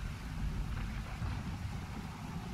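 Rain falls steadily in the survival game Stranded Deep, a dense even patter with a low rumbling undertone and no pauses.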